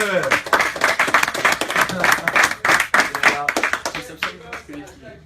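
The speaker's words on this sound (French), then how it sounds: "Quentin Louis, on l'applaudit s'il vous plaît." Lively applause from an audience, a burst of clapping that gradually thins out toward the end, with voices mixed in.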